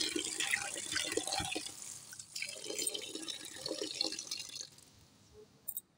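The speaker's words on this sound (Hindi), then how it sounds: "पानी चला दिया है, अब अच्छी तरह से धो लेंगे इन्हें" Tap water runs steadily into a sink as fresh neem leaves are rinsed, making a continuous splashing hiss with small spatters. The flow drops away near the end, leaving a few drips and clatters.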